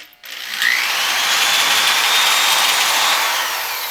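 A power drill whines steadily at high pitch as it bores through metal on a board, loud and close, running continuously for several seconds after a brief start.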